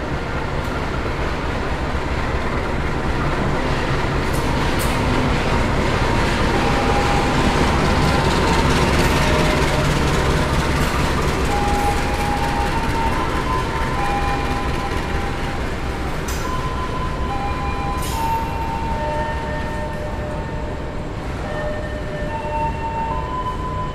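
A Sembrani Luxury passenger train runs along the rails at night, heard from inside the coach as a loud, constant rumble with rhythmic wheel clatter and occasional higher squeals, with no talking.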